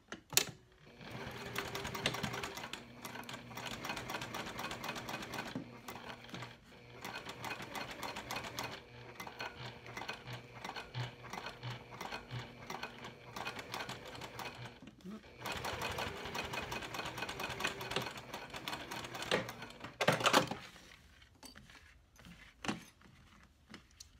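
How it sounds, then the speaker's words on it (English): A sewing machine runs in long steady bursts, top stitching fabric on an all-cork project, its rapid needle chatter broken by short pauses and a clunk, with a voice talking quietly over it. "and then I'm going to top stitch this."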